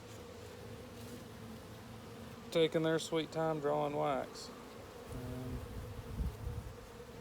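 Honey bees buzz steadily around brand-new drawn comb on an active hive, a continuous low hum that runs through the whole stretch while a person talks briefly over it in the middle.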